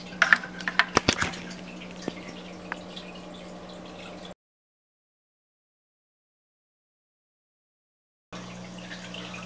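Water drips through an acclimation line into a bag holding new aquarium fish. A quick cluster of soft, close drops comes first, then isolated drips, then a long stretch of silence before low background hum returns.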